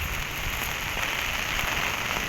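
Steady rain falling outdoors, a dense, even hiss of drops with no breaks, close and fairly loud throughout.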